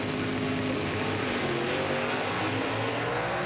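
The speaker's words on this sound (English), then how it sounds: "Zaskowski's getting it done with a 4-speed in the Camaro over on the far side" Drag racing cars at a Lucas Oil Series drag race, including a four-speed Chevrolet Camaro and a Pontiac, roar loudly and continuously with deep engine drone and harmonic revving, like a wide-open pass.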